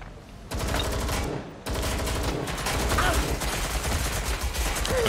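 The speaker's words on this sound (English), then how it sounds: "I'm getting shot every which way here" Gunfire in Watch Dogs Legion rattles in rapid, loud bursts from several directions, an almost continuous barrage after a brief gap near the start, with no clear talk over it.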